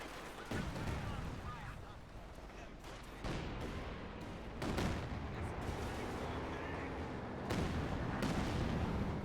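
Katyusha rocket artillery fires in a real-time strategy video game, a series of loud booming launches and explosions layered over dense battle noise, with bursts roughly every couple of seconds.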